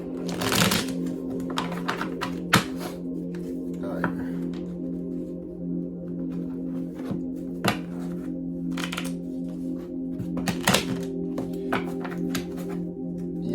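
Tarot reading cards are shuffled by hand in a series of quick, crisp riffles and soft slaps, recurring at irregular intervals against a quiet room with a faint steady hum.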